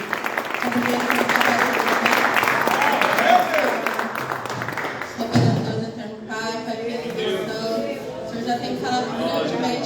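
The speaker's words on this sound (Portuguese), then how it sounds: "as palmas que louvam e agradecem ao Rei Jesus" A church congregation claps during a family worship service, a broad wash of hand claps for the first half, then it gives way to a voice and music-like tones continuing under the fading sound.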